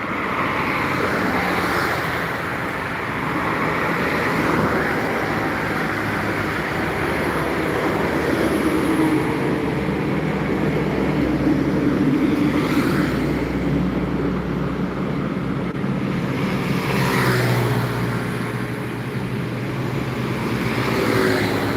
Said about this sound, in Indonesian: Ada satu unit bus MPM ya menuju Jabotabek dan sekitarnya dari Palembang, Sumatera Selatan.